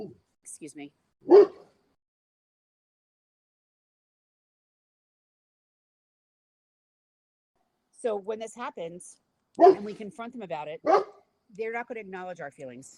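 A pet dog gives a brief sharp bark near the start, followed by a long silence and then someone talking.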